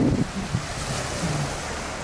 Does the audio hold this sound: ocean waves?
yes